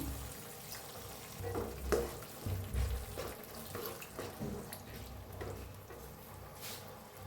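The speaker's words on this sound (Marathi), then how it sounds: "आता त्याच्यात वतायचं थोडंसं पाणी" A little water is poured into a cabbage mixture for cabbage manchurian, heard as a faint, uneven trickle and splashing with light stirring noises, quiet and close.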